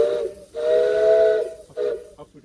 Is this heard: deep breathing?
no